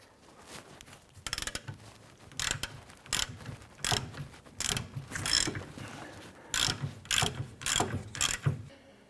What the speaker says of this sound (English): I'm going to switch over to a 1/2" drive ratchet and socket.